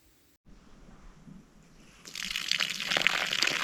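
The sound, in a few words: water flowing from newly installed tap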